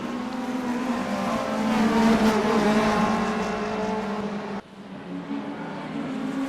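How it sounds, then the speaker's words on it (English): DTM race cars at the Nürburgring in a sim racing game, with a high-revving engine whine and wheel spin building loudly, then an abrupt cut as the sound shifts to another car. "Ooh, look at this wheel spin there."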